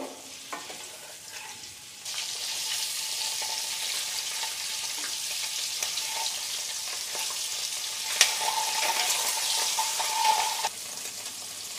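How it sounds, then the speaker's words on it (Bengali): Eggs fry in a pan for a dhaba-style egg and spinach curry, giving a steady close sizzle with light stirring scrapes and small pops, alone without talk. "আমাদের ডিম ফ্রাই হয়ে গেল"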